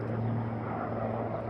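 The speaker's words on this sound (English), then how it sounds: "There you go, military helicopters." Military helicopters fly overhead along a roadside during a road trip to Benidorm, producing a steady, droning engine and rotor rumble that holds constant throughout the short stretch, with no voices over it.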